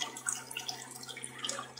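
Water runs through a clear PVC float trap with a 3/4 inch connection, a steady close hiss with small drips and gurgles throughout, with no voices.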